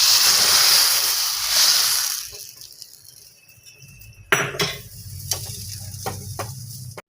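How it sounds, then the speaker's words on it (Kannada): Turmeric and tempering spices crackle and sizzle in hot oil for a sambar of ridge gourd and cucumber, a loud broad hiss at first that fades, then several sharp clinks of a spoon against the pan. "ಒಗ್ಗರಣೆ ಹಾಕೋಬೇಕು"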